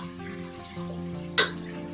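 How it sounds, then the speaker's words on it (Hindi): Cardamom and garlic paste sautéing in a pan for mutton korma: soft stirring and a low sizzle with one sharp utensil clink against the pan, close and with no voices. "थोड़ी सी इलायची हो जाएगी सौते तो फिर आपने इसमें लहसुन का पेस्ट डाल लेना"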